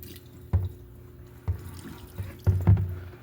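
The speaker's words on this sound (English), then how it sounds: "it's just the rest of this water I'm going to pour on the lace" Water is poured over a lace wig to rinse it, landing in a few soft splashes and drips that cluster toward the end, quiet and close.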